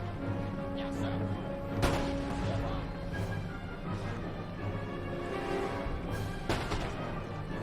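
Musket and artillery fire in an Empire: Total War battle near Rome, with sharp, sporadic cracks and booms over a steady low battlefield din and faint voices.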